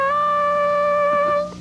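A harmonica plays a short bluesy lick, holding a bright 3-draw note and then shifting briefly to the 4-draw. It is close, clear and solo.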